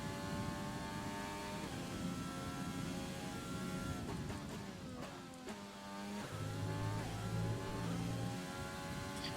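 A McLaren Formula 1 car in F1 2020 screams around the Red Bull Ring during the Styrian Grand Prix, its high-pitched engine held steady, then dropping and climbing through gear changes, loud and close with no talking.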